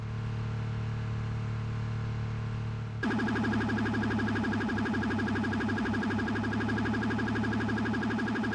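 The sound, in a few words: siren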